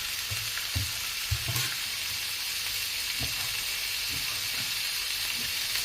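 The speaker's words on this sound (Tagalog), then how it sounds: "Igigisa na natin yan." Beef and carrots sauté in a pan with a constant bright sizzle, broken by a few soft clacks and scrapes of stirring near the start and again later.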